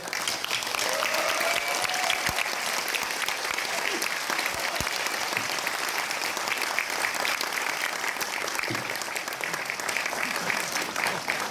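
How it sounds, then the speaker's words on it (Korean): An audience at a party launch ceremony applauds loudly and continuously, a dense wall of clapping that holds steady throughout with faint crowd noise beneath. "박수로 맞아주십시오."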